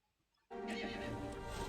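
A horse in the video game Resident Evil Village lets out a loud, sustained neigh that begins abruptly after a brief quiet moment and rings on with a whinnying quality.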